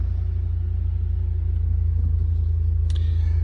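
An Audi TT's engine idles just after starting, a steady low rumble with even pulsing, heard close and continuous with no revving.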